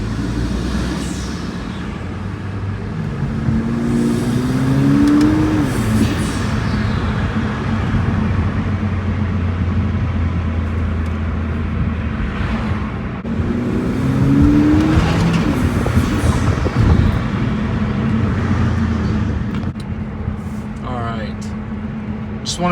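A Kia Stinger 2.0T accelerates on the road, its turbocharged four-cylinder engine droning loudly and rising through the revs in two long pulls, with someone talking over the engine throughout.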